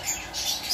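Budgerigars in an aviary, with faint high chirps and twittering scattered softly across a short stretch of steady background hiss.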